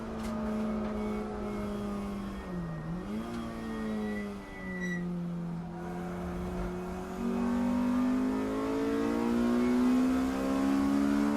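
A modified race car at Snetterton circuit passes with a loud, sustained engine note that dips and rises in pitch as it goes by, staying strong and continuous throughout.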